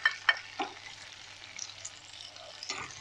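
Garlic sautés in oil with a faint, low sizzle, marked by a few light clinks and stirring scrapes near the start and again at the close.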